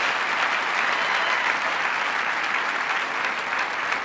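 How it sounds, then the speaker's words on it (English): An awards-ceremony audience gives sustained, dense applause for the University of Tampa team Tembo, a steady loud wash of many hands clapping with no break. "Big round of applause for Tembo"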